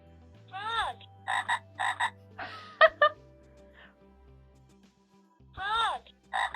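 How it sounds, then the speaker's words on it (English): A frog gives a series of close croaks in short bursts, with pauses between calls and a final croak near the end. "Frog."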